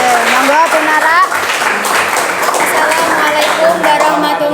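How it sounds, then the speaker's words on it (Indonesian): Classmates applaud a fellow student in a classroom, brisk close clapping from a small group heard under children's voices and chatter. "Tepuk tangan kagem kancane"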